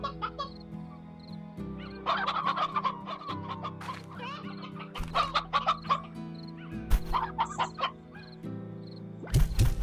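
Hens in Slime Rancher cluck and squawk in quick, repeated bursts over a steady game background hum, fairly close and busy throughout.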